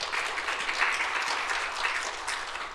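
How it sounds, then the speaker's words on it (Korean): A church congregation claps together in sustained applause during a Sunday worship service, a dense, even patter of many hands filling the sanctuary. "우리 하나님께 큰 영광의 박수 한번 드려봅시다"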